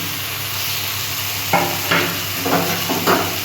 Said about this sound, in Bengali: এবার আমি আলু আর পটলটা ভেজে রেখেছি সেটা দিয়ে দিচ্ছি